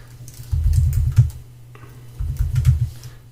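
Two short bursts of quick tapping on a computer keyboard, close and fairly loud, separated by a brief pause with a low hum underneath.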